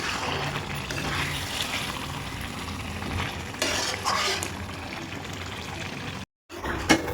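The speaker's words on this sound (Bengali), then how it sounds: "খুব ভালো করে মাংসটা নাড়াচাড়া করতে হবে, একদম লো ফ্লেমে, নাহলে কিন্তু মাংসটা নিচে লেগে যাবে।" Chicken meat for chicken chaap is stirred as it fries in a pan over low flame, a steady sizzle with scraping spatula strokes, a short silent gap near the end, then a sharp clink.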